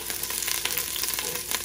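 Chili sizzling and frying in hot oil for a prawn curry, a steady crackling hiss with small pops and light stirring scrapes, close and continuous.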